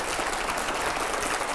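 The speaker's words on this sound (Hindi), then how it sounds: "जोरदार तालियां हो।" Dense, steady applause from a studio audience on a televised panel show, continuous clapping filling the whole moment with no pause.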